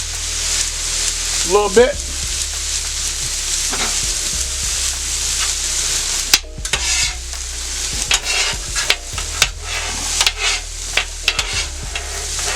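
Carrots sizzle in sesame oil on a Steelmade hibachi griddle with a steady, close frying hiss, while a spatula scrapes and taps across the metal and a voice speaks briefly.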